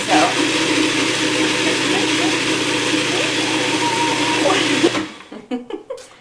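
A blender whirs steadily at high speed for about five seconds while blending vegan truffle ingredients, loud and close, then cuts off, leaving a few clicks and faint voices.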